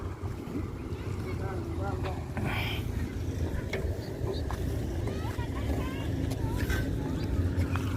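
A heavy boat engine drones low and constant nearby, mixed with wind buffeting and faint voices in the background.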